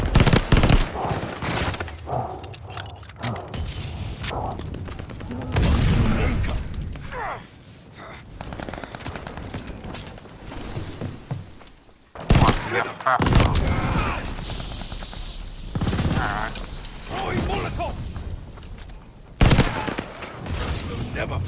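Call of Duty: Vanguard multiplayer gunfire, loud bursts of shots mixed with explosions and game effects, with a voice talking and gasping over parts of the action.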